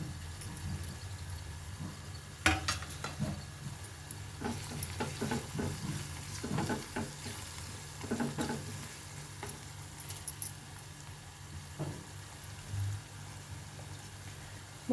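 Ginger garlic paste frying in a hot pan, with a steady sizzle broken by scraping stirs and a few sharp clinks, fairly close and with no voices.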